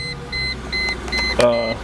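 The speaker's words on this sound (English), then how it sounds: "the first thing I'll do is I'll drop the top just so I can show you the rest of the interior of this car" A 2003 Mercedes-Benz SLK320's power convertible top begins lowering: a run of evenly spaced electronic chime beeps, then a sharp click and a rising motor whine starts near the end, close and moderately loud.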